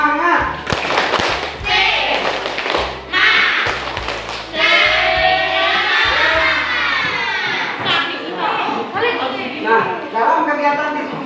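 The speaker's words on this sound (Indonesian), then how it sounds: "Ayo kita tepuk semangat dulu, ya." A classroom of children performs a rhythmic spirit clap, patterned bursts of claps and thumps alternating with children chanting and a teacher's voice, lively and close.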